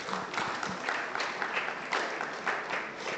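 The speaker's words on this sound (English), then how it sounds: "Please, a round of applause for them as they come on stage." Steady applause from an audience at a lecture as speakers walk on stage, a dense, even wash of many hands clapping continuously with no voices over it.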